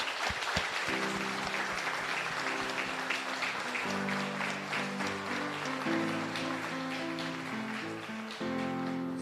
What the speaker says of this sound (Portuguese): Aplaude ao Senhor Jesus.